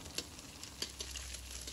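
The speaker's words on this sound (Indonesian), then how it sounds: "memasak atau menggoreng telur mata sapi lalu kita orak-arik" Egg frying and being scrambled in a pan, a faint steady sizzle with a few soft scraping stirs, quiet and without voices.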